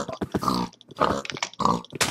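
Pigs in the Minecraft video game give several close, bursty grunts in a quick uneven sequence, with short gaps between the squeals and snorts.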